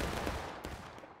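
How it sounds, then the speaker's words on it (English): A musket volley from a line of infantry in the War of Rights Civil War battle game: a dense, rolling crash of near-simultaneous shots with a few stragglers, fairly loud and mid-distance. "Looks like a good volley there from the 12th VA."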